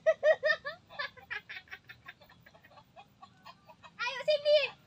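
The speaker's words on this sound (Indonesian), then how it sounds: "ada ayam rame-rame kayak mau matuk" A flock of chickens and large turkeys cluck and gobble nearby in a rural village, bursts of busy calls rising and falling, with louder squawking at the end.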